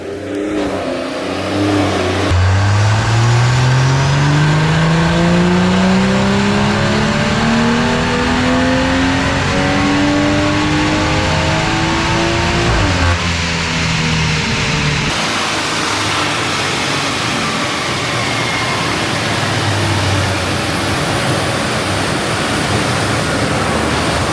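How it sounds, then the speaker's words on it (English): A BMW tuned toward roughly 500 brake horsepower revs hard on a dyno, its engine note climbing steadily in pitch through a long, loud pull. It peaks, then drops abruptly to a rough, noisy idle-down. "trying to get this car to almost 500 brake horsepower. Let's see how close it actually gets."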